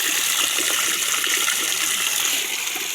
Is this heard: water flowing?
yes